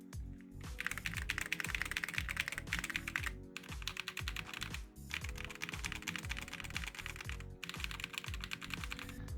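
Fast, close typing on a mechanical keyboard fitted with silver switches, a dense stream of crisp clacks in bursts separated by brief pauses, with no talking.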